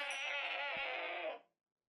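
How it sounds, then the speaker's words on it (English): A single goat in the Minecraft modpack StoneBlock 4 gives one drawn-out, wavering bleat, close and clear, which ends abruptly into silence. "Oh my god, it's a goat."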